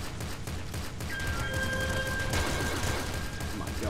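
A beam shotgun fires in the top-down shooter Nuclear Throne, dense crackling game gunfire with bursts of electronic zapping and a sustained high-pitched beam tone running through the middle.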